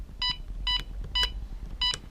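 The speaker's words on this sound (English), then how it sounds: "again wait for the beep" A EuroSec CP8L alarm control panel keypad gives four short electronic beeps in a slow, slightly uneven series, close and clear over a faint room hum.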